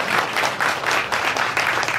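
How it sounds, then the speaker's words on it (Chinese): Audience at an Amway event in a Tainan chef's restaurant bursts into loud applause, the many-handed clapping swelling and easing in steady waves for the whole stretch. "来跟大家掌声鼓励一下。"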